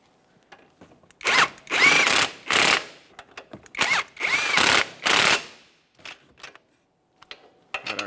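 An impact power tool snugging 19mm mounting nuts on a 2014-2018 Mazda 3 during a front left CV axle replacement, several loud close whirring bursts separated by short pauses.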